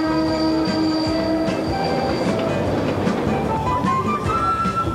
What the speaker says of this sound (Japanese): 彼らは黒部川沿いに走るトロッコ電車に乗り込み、さらに北アルプスの山深く分け入ります。